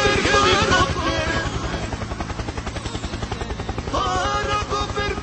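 A flying helicopter produces a fast, rhythmic rotor chop that pulses steadily and loudly throughout. A brief tonal voice-like sound appears near the start and again near the end.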